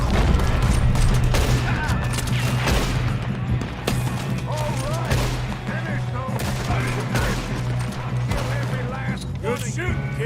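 Dense, continuous shootout in Red Dead Redemption 2, gunshots crackling throughout over a steady low rumble, with voices shouting amid the fire.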